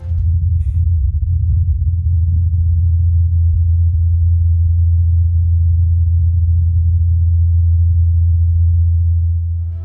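Rotor blades of the Mars helicopter spinning during testing, picked up by the Perseverance rover: a steady, low droning hum that holds constant for about ten seconds, muffled and distant, with no voices.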